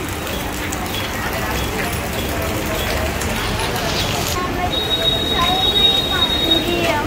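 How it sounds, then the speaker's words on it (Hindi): A Mumbai local train rumbles past on a busy street, a steady rolling din with a brief high whine of wheels near the end, while people talk over it. "Wow local train."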